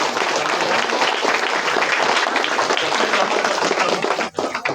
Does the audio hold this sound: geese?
no